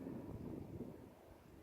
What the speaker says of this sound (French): Ça tonne.